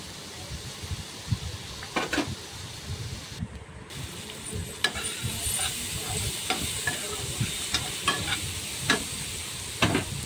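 Ramaish fish fries in a pan of oil with a steady sizzle, broken by repeated scraping and clinking strokes as the pieces are stirred up close.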